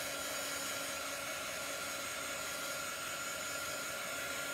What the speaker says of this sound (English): So you just use your hair dryer and dry your ink.